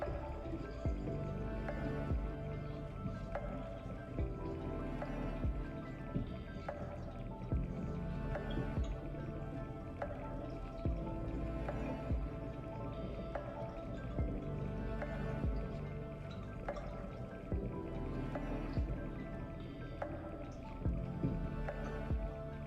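Orange juice pours steadily into a homemade cider batch, a continuous close gurgling and splashing stream with small drip-like pulses, with no talking.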